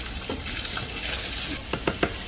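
Chicken wings frying in oil over medium-high heat give a steady close sizzle, with a few sharp crackles and pops near the end.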